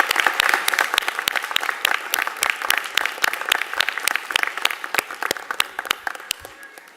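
Pharmacy students at a white coat ceremony applaud their family and friends, loud, close clapping with distinct individual claps on top of a dense wash that thins gradually toward the end.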